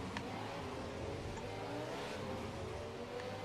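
An F1 2017 racing game car's engine drops through too many gears, a continuous loud engine drone with shifting pitch that runs steadily for a few seconds without a break.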